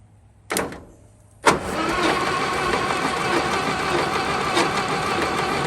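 The engine of a 1922 International truck, not run for over 30 years, is cranked over: two short starter bursts, then a sustained, loud, steady whirring crank with a rough mechanical rattle.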